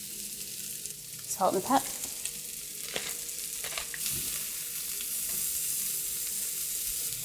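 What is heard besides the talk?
broccoli frying and being stirred in a pan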